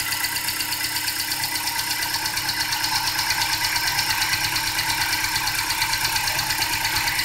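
A cold Toyota engine idles steadily nearby with an even, rhythmic mechanical pulse and a faint knocking texture throughout, and no voices.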